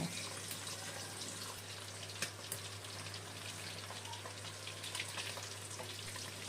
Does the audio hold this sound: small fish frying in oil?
yes